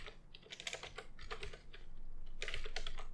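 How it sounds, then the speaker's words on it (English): Typing on a computer keyboard while writing Game Maker code: quick, uneven bursts of soft key clicks with short pauses between them, quiet and close, with a faint steady hum behind. "I'm having trouble typing today."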